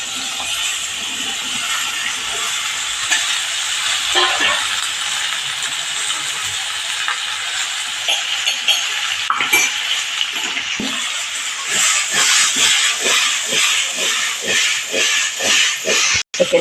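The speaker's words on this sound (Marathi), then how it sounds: "यावर आपण ही चिरलेली काकडी टाकणार आहोत" Chopped cucumber hits hot tempering in a pan at home, giving a steady, bright sizzle with irregular scraping and clicking as a spoon stirs through it, growing busier and louder toward the end.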